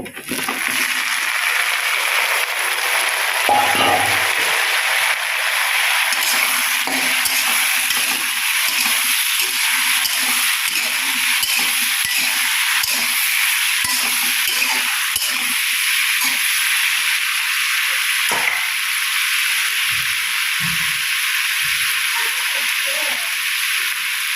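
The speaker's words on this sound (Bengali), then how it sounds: "এই তেলের মধ্যে কাঁঠালটার এঁচড়টা ভালো করে ফ্রাই করে নেব" Chunks of young jackfruit and potato fry in hot mustard oil with a steady, loud hiss and crackle throughout, broken by a few brief clinks and scrapes of a utensil in the pan.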